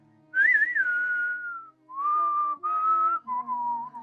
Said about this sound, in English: a soft little whistle hums in your ears